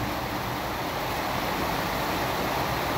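Heavy rain pours down steadily in a dense, unbroken hiss with a low rumble beneath it, loud and close throughout, during a storm with lightning flashing across the sky.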